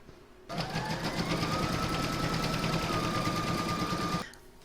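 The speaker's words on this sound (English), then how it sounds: "I'm going to pop that back in my machine and stitch round number 2, and that's going to secure the fabric" A sewing machine stitches fabric for a canning jar cover in one steady run of about four seconds, starting and stopping abruptly, loud and close with a fast even whirr and no talk.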